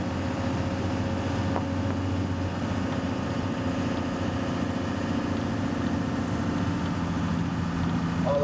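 A 1991 Dodge Ram 250 4x4 with a Cummins turbo diesel engine pulling under acceleration, a steady low droning rumble heard from inside the cab, continuous and moderately loud with no talk.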